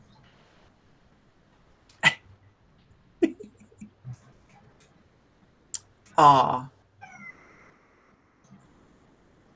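One of four house cats gives a single short meow partway through as the cats come into a quiet room, with a few light clicks and a brief spoken exclamation nearby.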